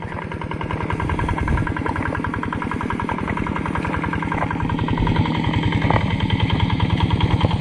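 A farm machine's engine runs steadily up close, a loud rapid mechanical chugging that holds constant throughout with a slight rise near the end.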